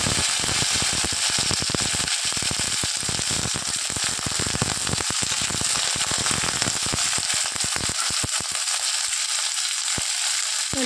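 Bottle gourd green stalks sizzling in a hot pan, a dense, steady frying hiss with crackling pops throughout, close and loud, easing slightly near the end.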